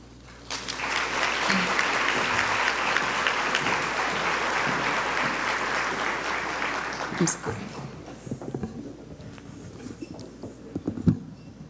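Sustained audience applause at a ceremony honoring African American women firsts, loud and steady for about seven seconds before fading into scattered claps and murmuring voices.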